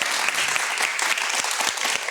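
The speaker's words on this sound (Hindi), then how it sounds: "तालियां यार, इसमें तालियां बनती हैं." A talk show studio audience applauding steadily, dense clapping at full volume for a couple of seconds with no talking over it.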